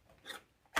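Scissors cut ribbon for a deco mesh Christmas swag: faint rasping handling, then a single crisp snip at the end.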